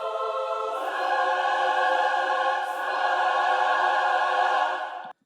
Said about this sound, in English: Female choir.